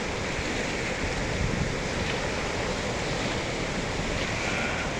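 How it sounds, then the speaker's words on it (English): Rushing water from a flooded river swollen by heavy rain, a dense, steady roar of churning current heard close and loud throughout, with wind buffeting the microphone and no talking. "That is one angry river."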